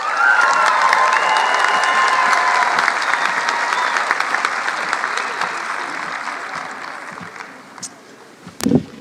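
A large commencement crowd at South Mountain Community College claps and cheers loudly for a student speaker, with whoops and shouts over dense applause that gradually thins out, ending in a few isolated sharp sounds.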